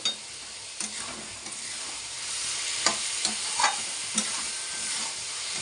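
Snake gourd with coconut and turmeric frying in a pan, a steady close sizzle with occasional scraping strokes of a spatula stirring through it.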